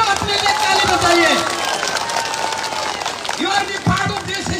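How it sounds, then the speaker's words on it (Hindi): A large crowd at a mass public rally in Pasighat claps in a dense, sustained wash of applause, with crowd noise and a voice over it. "आप अपने लिए सबसे पहले ताली बजाइए"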